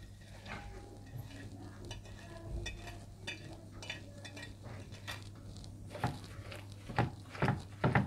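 Chicken bhajia batter with onion, coriander, mint, crushed red chilli, salt and baking powder being mixed by hand in a bowl: close, irregular wet stirring and soft scraping sounds, with no talking.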